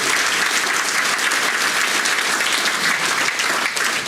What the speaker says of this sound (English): I think we owe all of them a big round of applause